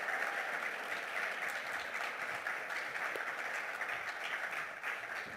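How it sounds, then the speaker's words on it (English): Continuous audience applause rises from the crowd at a youth mental health symposium, steady and dense but heard somewhat distant and soft. "So please give a huge round of applause for these amazing people"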